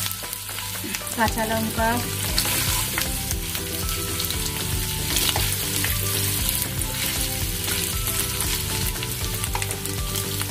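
Paneer frying and being stirred in butter with ginger and green chilli, a steady loud sizzle with scraping stirs running throughout, and a voice speaking briefly over it.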